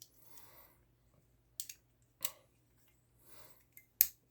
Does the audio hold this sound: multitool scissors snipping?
yes